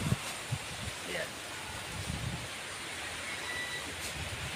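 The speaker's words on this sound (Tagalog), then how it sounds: "Medyo maalon yung karagatan, gawa malakas yung hangin." Strong wind roars steadily across the microphone while rough, choppy sea surf washes in the background, a constant broad rushing with no clear pauses.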